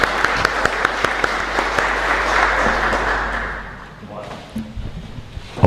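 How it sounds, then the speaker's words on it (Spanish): Church congregation applauds together at a chapel Mass, dense steady clapping that fades out after a few seconds, with a few voices faintly heard as it dies down. "Y un fuerte aplauso para nuestra comunidad."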